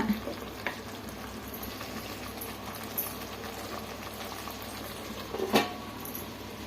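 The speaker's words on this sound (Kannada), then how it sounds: "ಈ ಟೈಮಲ್ಲಿ ಲಿಡ್ ಕ್ಲೋಸ್ ಮಾಡಿ ಒಂದು 5 ನಿಮಿಷ ಚೆನ್ನಾಗಿ ಬೇಯಿಸ್ಕೊಳ್ಳೋಣ." Spicy chicken pepper fry simmering under a closed lid in a pan, a soft continuous sizzle and bubbling with a few light clicks and one sharper knock, fairly quiet and without voices.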